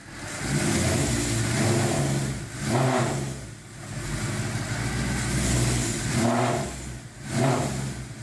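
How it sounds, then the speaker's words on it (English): A Mercedes C63 AMG engine revs repeatedly while held in gear against the brake, with a loud, close engine note that rises and falls in several surges over a steady idle rumble. "put the car in gear, put your foot on the brake and then rev the accelerator"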